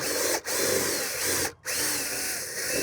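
A power drill with a large bit whines steadily as it bores a pilot hole, cutting out briefly twice before running on.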